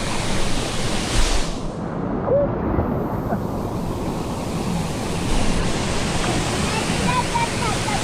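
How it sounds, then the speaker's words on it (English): Savage Falls, a Tennessee waterfall, roars as a loud, continuous broadband rush of falling water that persists steadily throughout, with faint wind buffeting the microphone. "Savage Falls, boys. Waterfall number 2 of the trip."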